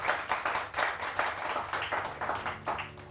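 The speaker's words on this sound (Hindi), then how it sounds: "बहुत सारी तालियां" Studio audience applause on a Samaa morning talk show, a few seconds of moderately loud, slightly uneven clapping with a pulsing rhythm, heard alone.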